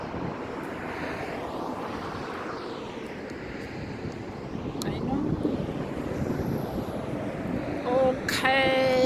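Strong wind blasting steadily across a microphone outdoors in Iceland, a broad, constant roar that swells louder toward the end, with a voice briefly speaking near the close.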